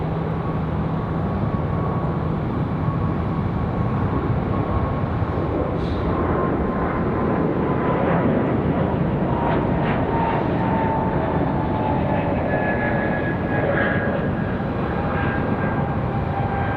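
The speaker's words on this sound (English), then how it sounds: "Should be a good looking departure here for Delta." A Delta airliner departs from Raleigh-Durham airport with a loud, steady jet roar that holds throughout, with faint higher engine whines building toward the end and no voices.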